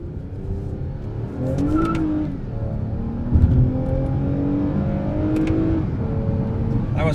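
2020 Toyota Camry TRD accelerating hard, its engine and exhaust rising in pitch through successive gear changes, heard from inside the car with a steady roar and a brief thump midway.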